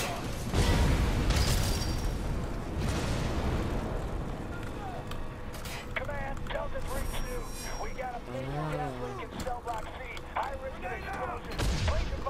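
Grenade blasts in the F.3.A.R shooter game: heavy low booms with rumbling tails, mixed with gunfire and other battle noise, and a voice talking over parts of it.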